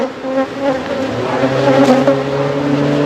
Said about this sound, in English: Try not to kill too many of these little bees.